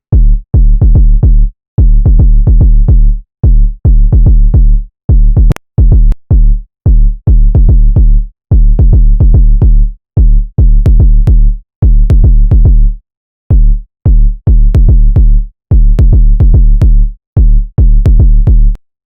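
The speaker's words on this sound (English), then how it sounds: "I add a bit of release on the oscillator envelope 1" Synth sub bass for a gun bass, its oscillator envelope given a bit of release so each note trails off in a short tail; loud, deep notes repeat in fast rhythmic bursts with brief gaps, alone without voices.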